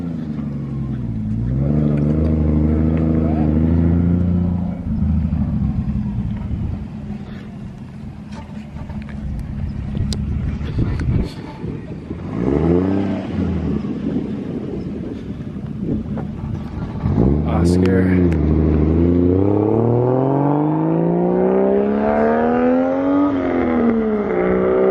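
Nissan Skyline GTR cars driving past at a roadside turnout, engines droning and rising and falling in pitch as they pass, with steady wind buffeting the microphone throughout.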